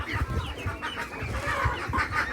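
Several turkey hens at an outdoor animal market cluck and chatter continuously in short, overlapping calls, fairly close, with a busy poultry-yard murmur underneath.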